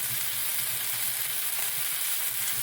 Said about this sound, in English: bacon is frying away, it's nearly cooked through.